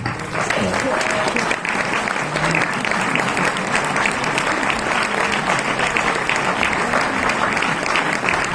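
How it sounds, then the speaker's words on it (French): A large audience applauds loudly and steadily to welcome actors Vincent Lacoste and Antoine de Bary before a film screening, with a voice briefly audible over the dense clapping. "Vincent Lacoste et Antoine Debarry, que vous allez accueillir et applaudir"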